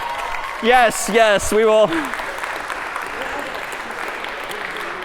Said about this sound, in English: And the crowd went wild for those of you watching from New Haven today with applause.